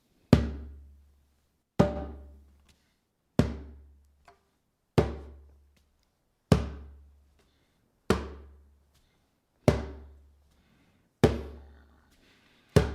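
Deep bass booms on a djembe drum, struck with alternating hands: nine or so single hits spaced evenly about a second and a half apart, each a close, resonant thump that fades before the next.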